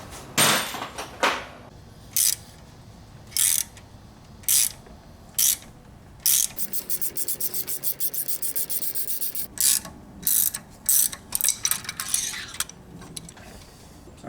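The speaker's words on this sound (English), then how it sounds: "This Milwaukee mid-torque is a beast." A Milwaukee mid-torque impact wrench fires in repeated short bursts while pulling bolts during an LS truck teardown, with one longer rattling run in the middle; loud, close and alone, with no talk.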